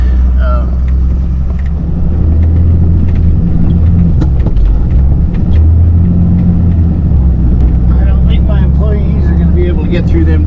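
A tow truck bulls through a deep snow drift on a snowy, icy Wyoming I-80 roadside, its heavy engine rumbling loud and steady close by under continuous low road and wind noise.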